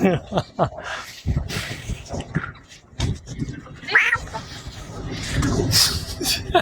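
A voice imitating a cat, giving several short meowing cries mixed with other speech and laughter, close and fairly loud.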